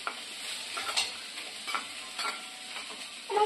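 Vegetables with spices, including broccoli, potato and onion, stir-fried in a pan at home: a soft, steady sizzle with a few scraping stirs, fairly quiet and heard alone.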